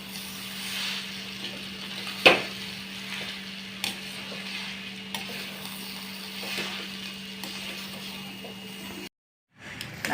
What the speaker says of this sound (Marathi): आणि हे कुस्करून घेतलेला बटाटा घालूया, आणि हे मिक्स करून घेऊया सारण 2 मिनिटं